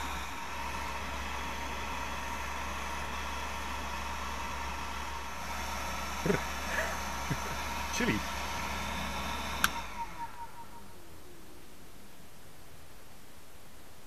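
An improvised 12-volt, 0.3-amp computer cooling fan runs with a steady, noisy hum and whoosh, broken by a few small clicks before it cuts off near the end, leaving only faint background hiss.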